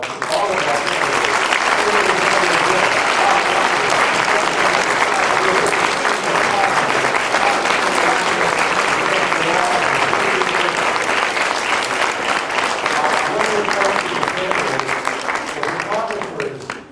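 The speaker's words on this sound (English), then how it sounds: "I want to please give another round of applause to all of our" Sustained, loud clapping from an audience at a Democratic women's forum for gubernatorial candidates, dense and even throughout before fading at the very end.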